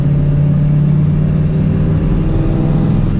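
A 450 hp supercharged New Edge Mustang GT with a McLeod clutch drives along, its engine a steady, loud, deep rumble with a constant low drone throughout.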